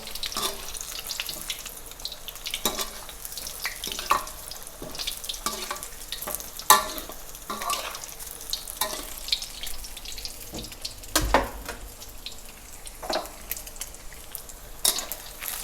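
Eggs frying in oil for Thai son-in-law eggs, a soft, steady sizzle broken by scattered clinks and scrapes of a utensil stirring the pan, heard close without any speech.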